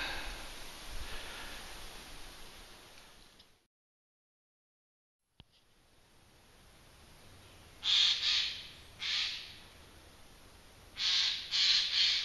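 Harsh cawing bird calls in a quiet wood, Bannon's Wood, arriving in short separate bursts with gaps between, fairly close and loud over faint background hiss, after a brief dropout of silence.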